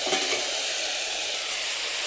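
Potatoes frying in a pan while being stirred, a steady close sizzle with soft scraping from the spoon throughout.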